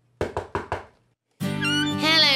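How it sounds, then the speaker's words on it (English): A knock at a door in an animated children's story about a hedgehog: four quick, evenly spaced raps, fairly close and clear, then a pause before a voice starts speaking. "he heard a knock at the door"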